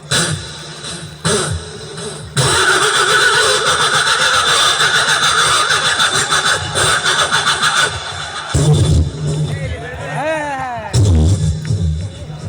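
A man vocally imitates a private car's engine starting and then stalling in winter, sputtering and revving loudly up close, with whiny rising and falling vocal glides toward the end.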